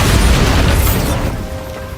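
A Bombarda spell explodes in Hogwarts Legacy with a loud, deep boom right away, then a rumbling burst that slowly fades over about two seconds.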